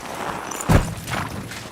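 Horse in the medieval game Kingdom Come Deliverance II, a single soft hoof thud amid a low muffled background, brief and close.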